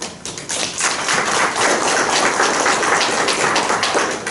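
Audience applause at a historical society talk on antique silver tableware, a dense crowd clapping that swells in quickly and holds steady, close and loud, with no speech over it.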